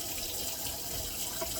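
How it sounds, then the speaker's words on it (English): Steady rush of running tap water splashing into a sink as butter is rinsed off hands during homemade butter making, continuous and fairly close with no talk. "Now I'm gonna wash my hands."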